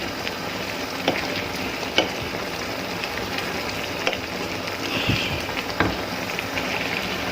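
Cooking cream poured into a pan of spinach stroganoff, giving a steady close sizzle and bubbling with a few sharp clinks and stirring scrapes, no voices.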